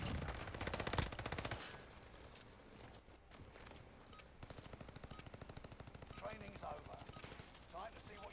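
Rapid bursts of gunfire in a PC video game, a loud volley at the start, then steadier repeated shots under a voice talking over the action.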